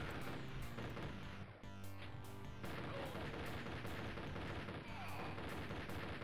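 A chain gunner enemy fires in the video game Project: Liftwaffe, giving steady rapid-fire gunfire that runs throughout as a dense mechanical rattle with periodic sharper cracks.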